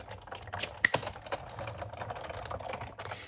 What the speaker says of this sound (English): Any cracking noises that your Big Shot makes is perfectly normal, nothing to worry about.